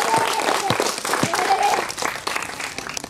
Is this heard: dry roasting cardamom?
no